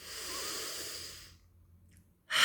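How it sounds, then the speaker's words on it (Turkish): A person breathes in deeply, one long airy inhale in a quiet room, then a pause and the start of a breathy exhale. "Öncesinde nefes alıyorum."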